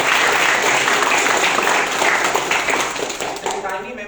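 Dense, steady applause from an audience at a community meetup talk, loud and continuous for several seconds before tapering slightly toward the end, with some voices mixed in.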